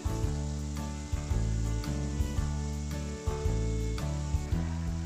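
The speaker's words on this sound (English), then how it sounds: "First time using medium heat to fry the ribs for 5 to 7 minutes to fully cook the ribs." Pork ribs deep-fry in oil over medium heat, a soft bubbling sizzle heard beneath a loud tonal musical bed with regular rhythmic pulses.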